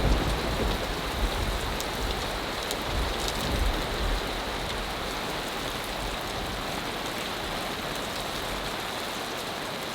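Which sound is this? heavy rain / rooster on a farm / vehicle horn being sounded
heavy rain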